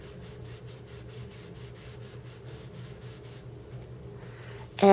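Ink colour being rubbed onto rubber stamps for card making, a soft rhythmic scrubbing repeated many times at close range, ending in a brief louder knock.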